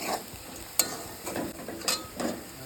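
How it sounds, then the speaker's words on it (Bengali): Masala with salt being stir-fried in a pan for a dhaba-style egg curry, a steady close sizzle broken by periodic scraping strokes and a few metallic clinks of a spoon against the pan. "এটা ভালো করে কষিয়ে নেব"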